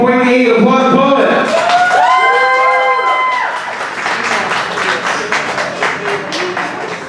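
An audience at a poetry slam in Dayton, Ohio claps and cheers for a poet, a loud burst of applause with whoops and shouts that tapers into scattered clapping, while voices call out over the top early on.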